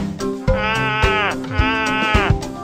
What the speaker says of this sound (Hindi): ये भेड़ की आवाज है।